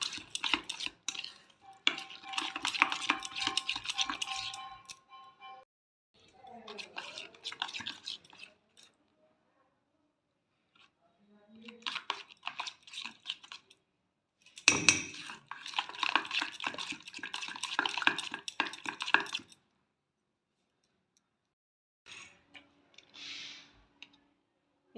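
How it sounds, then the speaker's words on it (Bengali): Carrot cake batter of sugar, yogurt, grated carrot and oil being stirred in a bowl, close scraping and clinking bursts of a spoon against the dish, separated by quiet pauses. "দেখো এগুলো সব ভালো করে মিশিয়ে নেব।"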